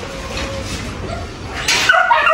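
Several Belgian Malinois at a breeding kennel yip, whimper and bark in a cluttered chorus, with someone talking over them and a louder burst of barking near the end.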